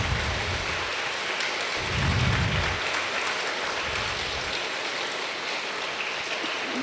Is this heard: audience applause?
yes